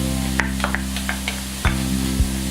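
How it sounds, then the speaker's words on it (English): Onions and spices stir-fried in a pan, with soft scraping stir strokes and light clinks over a steady low background hum; one sharper knock near the middle. "I'm going to just go ahead and stir fry that just for about 2 minutes or 3"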